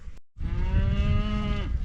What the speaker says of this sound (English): You can hear Emmy up there mooing.